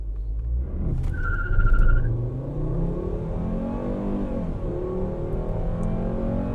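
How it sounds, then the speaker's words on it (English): A 2008 VW Rabbit (Mk5 Golf) in sport mode accelerating hard from 0 to 60, its engine droning loudly with rising revs and a brief gear-change dip, heard steadily from inside the car. "Okay, so we're gonna do a quick 0 to 60 test."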